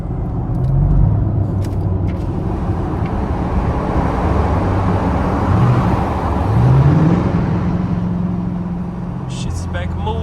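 Car rolling along in slow, congested road traffic, a steady close rumble of engine and road noise from inside the vehicle with low tonal hums and a couple of brief brake hisses.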